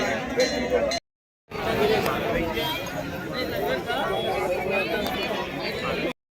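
A crowd mills about in Pahalgam while people wait in line for a langar meal, a dense steady babble of many voices close by, with one brief dropout in the middle.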